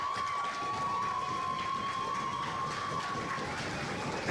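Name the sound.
wrestling crowd chanting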